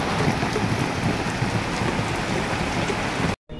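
Morning rain pours down in a loud, dense, close hiss of drops that stays constant, then cuts out briefly just before the end.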